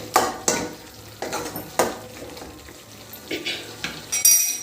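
Onions being stirred and fried in a pan for an egg gravy, with a scraping spatula striking the pan every half second or so over a steady close sizzle, and a brief metallic clink near the end.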